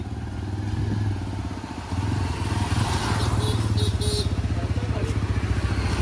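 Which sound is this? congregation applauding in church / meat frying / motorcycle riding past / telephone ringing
motorcycle riding past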